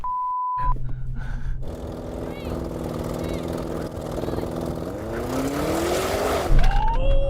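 A Tesla Model 3 and an Audi RS7 launch side by side in a drag race. Engine and electric-motor noise rises steadily into a rising whine with a tire chirp. Someone speaks excitedly over the sound.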